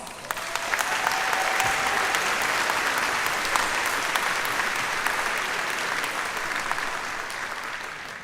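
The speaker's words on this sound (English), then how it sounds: "Once again, give these bright young individuals a round of applause." Audience at a 2022 college commencement ceremony applauding the graduates, a dense, continuous round of clapping from a large crowd that holds steady and then tapers slightly toward the end.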